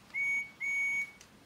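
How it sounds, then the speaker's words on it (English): A Thomas and Friends toy engine, Percy, gives two clear steady whistle toots, the first short and the second longer, close and alone in a quiet room. "That Percy whistle."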